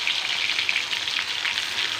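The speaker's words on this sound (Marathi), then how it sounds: "आता आपण हे तेलामध्ये टाकणार आहे आपलं तेल छान गरम झालेलं आहे" Close, bright sizzling of ground masala frying in hot oil for chicken rassa, a dense continuous crackle with no voices.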